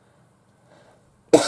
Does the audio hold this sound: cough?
yes